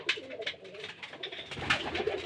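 Giribaz pigeons coo inside a loft, with overlapping low rolling coos in a steady rhythm, close and moderately loud, and no talking.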